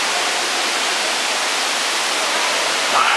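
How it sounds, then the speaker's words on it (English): A waterfall roars as a steady, loud, broadband rush of falling water that fills the whole moment without a break. "nice waterfall here."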